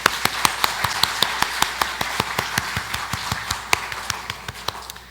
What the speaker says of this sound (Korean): 성도님들 위해서 박수